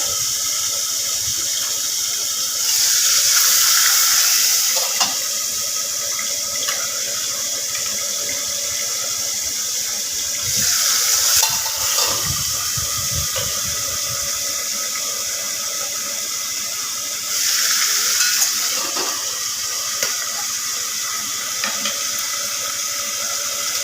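Hilsa fish heads and fish oil frying in a pan under a lid, a steady loud sizzling hiss that swells in several bursts, with faint clattering underneath.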